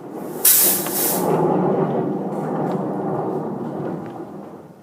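Thunder opens with a sharp, bright crack and then rolls on as a broad, hissing rumble that slowly fades.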